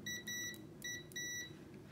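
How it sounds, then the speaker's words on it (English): Short electronic continuity beeps from a Kaiweets HT118A multimeter, a few high-pitched tones of varying length, clean and close against a quiet hum. "we'll turn on the beeping function"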